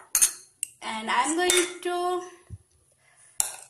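Spoon clanking against a metal bowl while mixing bitter gourd with salt, turmeric and mustard oil: a few sharp clinks and a stretch of scraping, with a brief spoken phrase.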